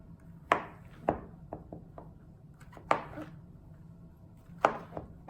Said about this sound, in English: slice into my portobello mushroom